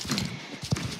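Horse hooves clip-clop in the Star Stable online horse-riding game, a preview animation of an Andalusian horse, with a few soft, uneven steps and one sharper thud near the end over a faint background hum.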